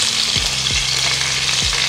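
Beef steak fries in butter in a pan, giving a loud, dense, continuous sizzle with a few soft thumps underneath, heard close for a couple of seconds.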